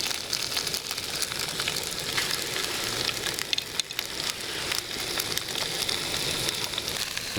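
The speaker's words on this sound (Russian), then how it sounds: "Значит, у меня хариус здесь жарится." Grayling fish frying in a pan outdoors, a dense, steady sizzle and crackle that holds close and loud throughout.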